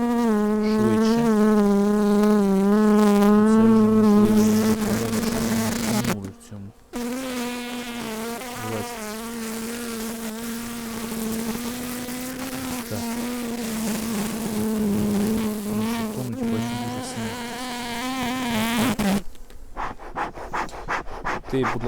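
Loud, close buzzing of many honeybees at an open hive in April, a dense droning hum that wavers in pitch and stays continuous apart from two brief breaks.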